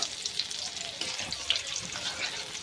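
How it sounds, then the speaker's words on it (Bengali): Ginger paste fries with cumin seeds in a pan, giving a soft, continuous sizzle with light crackles and occasional scraping, faint and steady without speech. "দিয়ে ভালো করে একটু ভেজে নিতে হবে যাতে আদার কাঁচা গন্ধটা চলে যায়"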